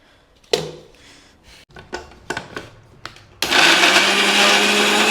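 A mixer grinder blends boiled spinach, paneer and green chillies in its jar: a few sharp knocks and clunks as the jar is set, then the motor kicks in with a loud, steady whirring roar.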